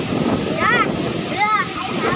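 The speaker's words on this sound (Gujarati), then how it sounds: "મચ્છુ ડેમ 1 નો ઓવરફ્લો છે" Water overflowing Machchhu Dam 1 rushes in a steady broad roar, with brief voices rising over it a couple of times.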